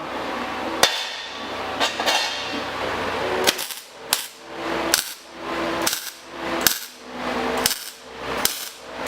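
Steady, evenly spaced hammer blows on a metal helmet being shaped after welding and grinding, ringing sharply and close up, with a few scattered strikes at first before settling into a regular rhythm.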